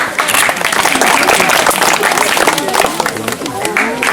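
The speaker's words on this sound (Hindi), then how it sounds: "अब ये फर्स्ट सेकंड थर्ड प्राइज ताली बजाएं।" Dense applause from a school audience for first, second and third prize winners at a student event, loud and continuous throughout, with voices mixed in.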